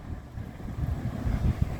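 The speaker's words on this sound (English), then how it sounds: "I apologize if it's windy" Wind buffeting a microphone at a beach causeway, a low rumbling roar that swells and gusts steadily throughout.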